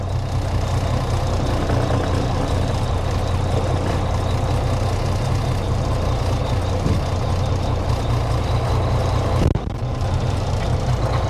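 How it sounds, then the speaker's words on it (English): A tractor-trailer truck backing slowly up underneath its trailer, a steady low diesel engine drone close by and unbroken, with a brief shift near the end as the rig settles. "back slowly up underneath the trailer"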